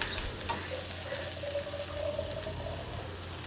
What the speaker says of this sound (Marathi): आता छान असं तेलामध्ये परतून घेऊया कांदा आपण.